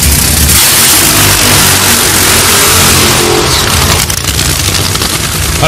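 Extremely loud, roaring funny car drag racing engine blasting continuously at close range during qualifying, a harsh saturated thunder that eases slightly near the end.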